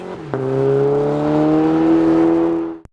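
A 2024+ Toyota Tacoma fitted with an AWE 0FG catback exhaust revs up sharply and holds a steady, loud, droning exhaust note close by, then cuts off abruptly.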